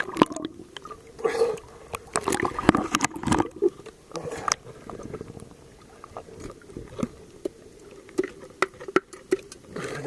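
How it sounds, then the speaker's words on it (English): A seawall H-pile tapped to check for a hollow, detached facing, giving irregular bursts of dull knocks and scuffs amid wet, splashy background noise. "The hollow sound means that the radius is no longer adhering to the H-pile."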